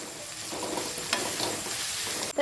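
Onions softening in hot oil in a pan for a Kerala-style duck roast, a steady close sizzle with light stirring scrapes and a brief clatter near the end.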